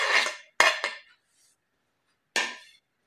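Chopped onion, tomato and coriander stirred into cooled Maggi noodles in a bowl, heard as three sharp clinks and scrapes of a spoon against the dish, with silence between them.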